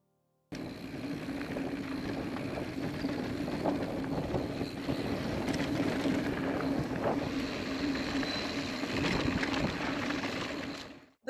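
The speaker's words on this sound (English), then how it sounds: "I wanted to really highlight the loudness of the motor here" Loud, steady motor whine of an electric mountain bike riding a trail, a continuous hum running throughout with wind rush over the microphone and no talking.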